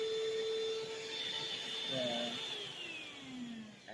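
Pursonic handheld vacuum cleaner runs with a steady high-pitched whine and airy hiss, fairly faint and continuous, with a short shift in tone partway through.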